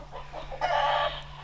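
A rooster in a barn crows once loudly and close, a harsh drawn-out call after a few short clucking notes, with steady low hum underneath.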